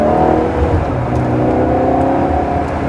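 A Ferrari 360 Challenge Stradale's engine blips and revs through a downshift, heard loud and close from inside the car as a steady droning whir with rising and falling pitch.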